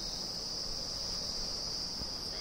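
A steady, high insect drone runs unbroken from start to finish, loud and close, with a fly buzzing around indoors and no one speaking.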